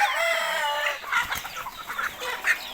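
Chickens clucking nearby, with a rooster crowing at the start, followed by a series of short, irregular clucks.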